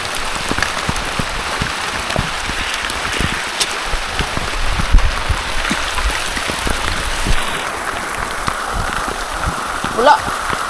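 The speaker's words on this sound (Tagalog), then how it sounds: "Grabe malakas yung ulan." Heavy rain pours down, a dense, steady patter of drops hitting surfaces close by, with a person talking intermittently underneath the downpour.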